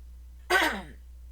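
One short, close throat-clearing cough, a quick rough burst that fades within a second.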